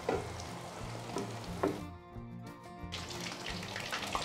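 Two marinated chicken leg 65 pieces fry in hot oil, giving a close, steady crackling sizzle that briefly thins to a quieter bubbling before the hiss returns.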